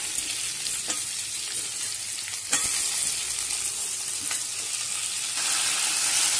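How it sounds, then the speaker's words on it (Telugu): Onions and tomatoes fry in a pan as the tempering for an amaranth-leaf tamarind curry. A steady, close sizzle runs throughout with a few faint stirring clicks, and no voices. "టమాటా ఆనియన్స్ తాలింపు వేగిందండి."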